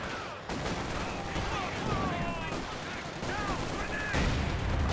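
Battle noise from Company of Heroes 2, with gunfire and a grenade blast in a busy multiplayer fight, steady and dense throughout, with a commentator talking over it.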